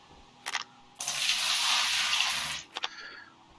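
Water gushing and draining away in Gold Rush The Game, a steady broadband rush lasting about a second and a half, framed by brief splashy bursts before and after, fairly close with no talk.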